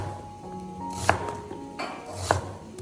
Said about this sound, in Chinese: 接下来准备半个洋葱，先倒过来切成细丝